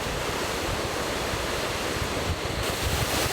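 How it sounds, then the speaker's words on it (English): A Scottish waterfall swollen with water after rain roars as steady, dense rushing noise, close and loud without pause, with no voices over it. "We've got so many waterfalls here in Scotland"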